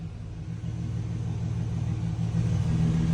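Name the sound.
car engine starting and running after cranking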